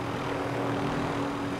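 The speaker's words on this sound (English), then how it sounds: "You picked up the chopper? Why would you do that?" Helicopter in the video game Call of Duty: Modern Warfare Warzone, a steady droning rotor and engine roar that holds evenly at constant loudness with no talk over it.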